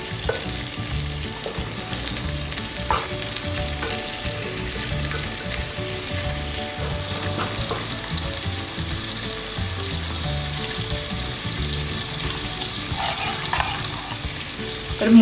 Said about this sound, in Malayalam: ഇനി ഈ ചിക്കനെ ഒന്ന് തിരിച്ചിട്ട് കൊടുക്കാം.